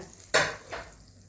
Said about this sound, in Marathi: ही अशी मस्तपैकी फोडणी ह्याच्यावर घालून घ्यायची